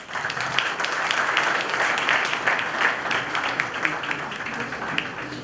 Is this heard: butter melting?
no